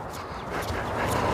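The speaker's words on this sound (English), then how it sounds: "but cute dogs." Several dogs next door barking and yipping, fairly faint and steady over outdoor background noise, with no talking.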